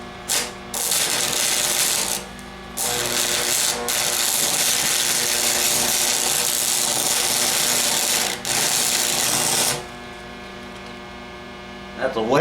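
A welder laying beads on a truck headache rack gives a steady crackling, buzzing hiss in long continuous runs with short pauses between, close and fairly loud, with no talk over it.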